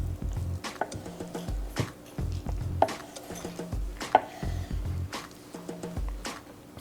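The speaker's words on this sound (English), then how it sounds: "kind of working my knife, making sure it looks okay as I cut through." A knife cutting through brisket during trimming, with repeated close thuds and squishy slices against a board in an irregular rhythm, steady and moderately loud, no voices.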